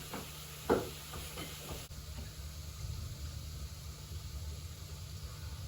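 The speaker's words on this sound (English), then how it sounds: "if you hear that sizzling goodness" A steady, even sizzle of tofu frying in a pan, with a few brief knocks near the start and a constant background hiss throughout.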